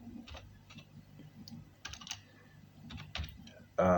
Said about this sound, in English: Then you key in, you type Kyeop